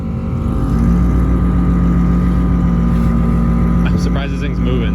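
A bagged, body-dropped Ford F100 with bald tires and two-wheel drive rumbles steadily while plowing snow, its low engine drone loud and continuous throughout, with a brief shift in tone near the end.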